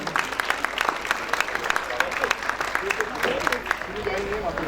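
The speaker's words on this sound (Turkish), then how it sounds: "en kuvvetli alkışlarınızla davet ediyorum" An audience at a journalists' association celebration applauds as the association's president is invited up, a lively, steady crowd clapping with sharp individual claps standing out and voices underneath.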